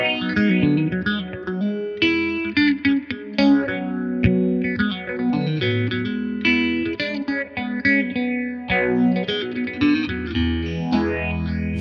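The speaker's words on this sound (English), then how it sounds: "Turning this knob up will focus the phasing effect only on higher frequencies, leaving your lower notes clear." Electric guitar played through a Fender Waylon Jennings signature phaser pedal, a steady stream of chords and notes with a sweeping phase-shifting swirl, loud and continuous with no talk.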